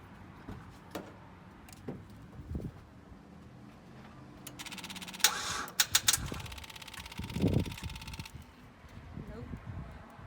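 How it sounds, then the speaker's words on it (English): A jump-started Mitsubishi Eclipse GT, 2000–2005 model, gives one brief, buzzing burst of starter cranking. Quiet clicks and low rumbles surround it. "Okay, let's start this car now."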